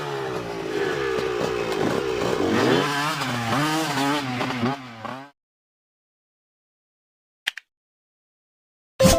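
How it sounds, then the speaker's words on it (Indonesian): A motocross motorcycle engine buzzes loudly for around five seconds, rising and wavering in pitch as it is revved, then drops away; brief clicks and a short noise burst follow the silence. "Motocross."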